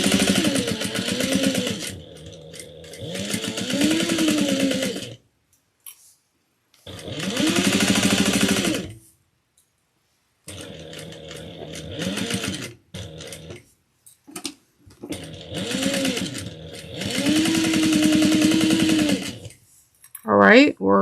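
Sewing machine stitching through the layers of a quilted fabric bowl, several loud, close buzzing runs of a few seconds each, separated by silent pauses.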